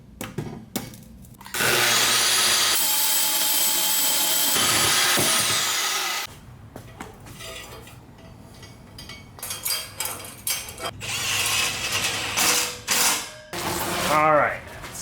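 A power tool cuts through an exhaust pipe on a K24-swapped Cefiro being straight piped, giving a loud, sustained high-pitched grinding screech for several seconds, followed by scattered clanks, scrapes and handling noises.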